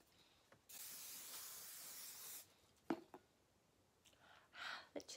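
A sustained hiss of hairspray lasting nearly two seconds, followed by a few sharp clicks and a shorter burst of spray.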